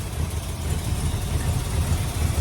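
A 1962 Chrysler New Yorker engine idles steadily up close, not yet fully warmed up and in need of a tune-up, a continuous low rumble with no talk over it.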